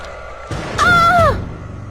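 A woman lets out a single loud, sustained scream lasting about half a second, sharp and near, set against a low rumbling background in a horror story.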